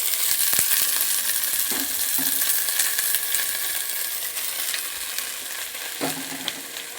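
Fenugreek leaves and flat beans frying together in a pan, a continuous close sizzle with a few sharp clinks and scrapes of a spatula stirring them, no talking.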